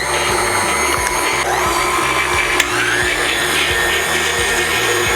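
An electric mixer whirs steadily while blending pimento cheese spread, a continuous close motor drone with a brief click near the middle.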